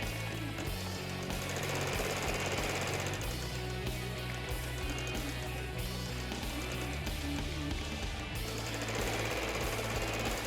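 A Brother embroidery sewing machine running continuously with a rapid, steady mechanical stitching clatter and low motor hum, loud and close throughout with no talking.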